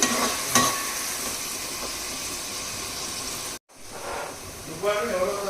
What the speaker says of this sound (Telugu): ఇప్పుడు మనం ప్రిపేర్ చేసుకున్న ఆనియన్స్ పేస్ట్ కూడా వేసేసుకుని గోల్డెన్ బ్రౌన్ కలర్ వచ్చే వరకు ఫ్రై చేసుకోవాలి.